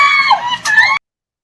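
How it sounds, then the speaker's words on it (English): A bystander screams loudly and shrilly at the scene of a multi-car accident, a single sustained close outburst of distress lasting about a second before cutting off abruptly. "when you hear the screaming"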